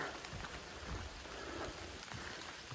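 Rain drips and patters steadily on surfaces around a hiking trail near Dragon's Tooth, a dense close wash of drops with no voices.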